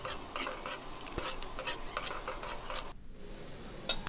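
Dry spices being stirred in a pan while frying, a steady scraping and clinking of a utensil against metal with soft sizzle, close and continuous for about three seconds, then dropping to near quiet.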